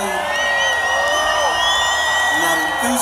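Festival crowd at a concert screams and whoops in a sustained, loud roar of cheering, with talking mixed in.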